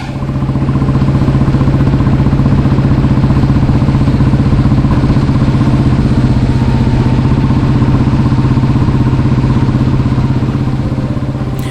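An old Royal Enfield G2 Bullet motorcycle, its ignition timing slightly off, thumps along steadily at 50 to 60 with a loud, even single-cylinder beat and mechanical clatter, close to the microphone with no talking.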